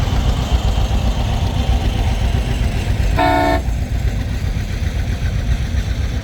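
A 1954 John Deere 50 tractor rolls by in a threshermen's show parade, its engine chugging steadily at close range while a short horn toot sounds partway through.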